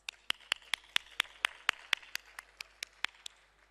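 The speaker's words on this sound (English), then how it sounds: "A big round of applause." A conference audience at a plenary session claps in sharp, evenly spaced single claps that sound sparse and fairly faint, with no voices over them.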